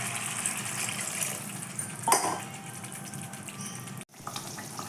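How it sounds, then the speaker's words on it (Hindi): Water pours steadily into a pot of Odia fish curry while it cooks, a continuous faint splashing rush that stops abruptly near the end. "माछरे पानी दे"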